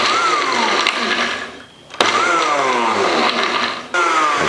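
Blender pulsing basil and garlic for pesto, the motor whirring up in loud bursts with rising pitch, cutting off briefly near two seconds before starting again, close and alone.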